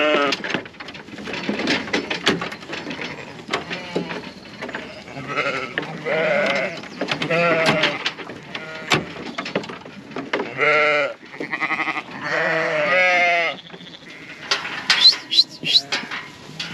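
Texel sheep and lambs bleat repeatedly at close range, several overlapping calls of varying pitch rising and falling across a busy pen, with brief quieter gaps between bursts.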